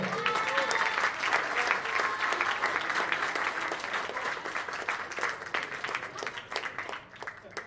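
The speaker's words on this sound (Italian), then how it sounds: "Un grande applauso." A large theatre audience applauds continuously at an award ceremony, dense clapping that stays loud before tapering slightly at the end.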